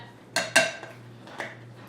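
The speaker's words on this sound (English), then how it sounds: "So I just use a potato masher" Quiet scraping and clinking of a potato masher pressing into cooked pumpkin in a bowl, a few distinct knocks over a low steady hum.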